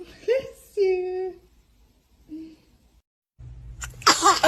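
A baby sneezes, a short high burst followed by soft whimpering sounds, with a louder noisy burst near the end amid background hum.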